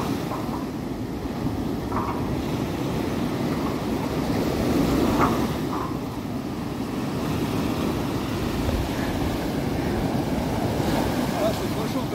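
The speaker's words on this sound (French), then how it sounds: "Et quand même les vagues elles l'amènent haut hein." Ocean waves surging and washing at night on a windy shore, a steady loud roar of surf with occasional heavier swells and wind buffeting the microphone, no one speaking.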